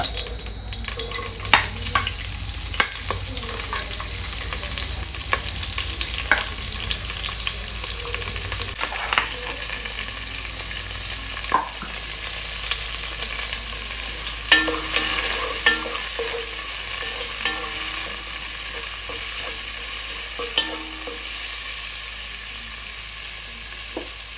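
Green chilies and garlic sizzle steadily in hot oil, a continuous close frying hiss broken by the scrape and clatter of stirring.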